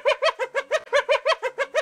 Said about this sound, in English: This call is known as giggling and sounds like this.